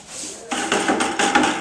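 American Clay limewash brushed onto a damp wall in a crosshatch pattern, giving soft repeated bristle swishes. A quiet start is followed by several louder close strokes in quick rhythm.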